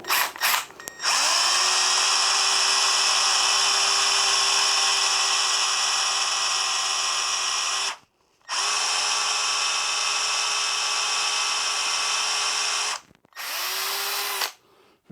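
A power drill bores a hole in steel with a steady high whine, running in three long stretches separated by short stops, close and loud with no talking.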